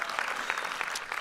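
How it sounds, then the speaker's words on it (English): An audience at a book release party breaks into a short burst of steady applause, dense and close, with no voices over it. "Round of applause."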